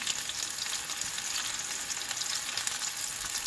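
Mutton kola urundai meatballs fry in hot oil with a steady, bright crackling hiss, fairly soft and continuous throughout the short stretch, with no other sounds.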